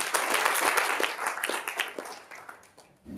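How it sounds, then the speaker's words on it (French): An audience applauding at a human rights league event in Paris, a full burst of many hands clapping that gradually thins into scattered claps and fades away near the end. "Je crois que ça mérite d'applaudir."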